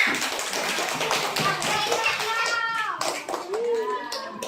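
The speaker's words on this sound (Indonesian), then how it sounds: "Tepuk tangan untuk semuanya." Children clapping together in an Indonesian classroom after a shapes counting lesson, a brisk steady patter of small hands close by, mixed with kids' voices and chatter throughout.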